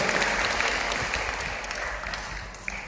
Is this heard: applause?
yes